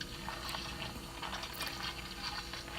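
Pineapple cucumber lemonade with pineapple and cucumber pieces is poured over ice, giving a faint, continuous splashing and fizzing trickle.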